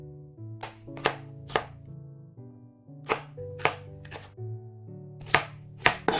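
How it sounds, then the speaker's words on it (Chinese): Knife chopping a halved and quartered scallion into short pieces on a board: sharp, distinct chops in small irregular clusters, near and clear, over a low steady background tone. "然后把大葱切小段"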